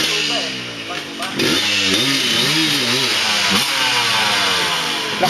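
A motorcycle engine revs loudly and close on a dirt trail, its pitch sweeping up and down in repeated throttle blips, with someone talking over the engine noise.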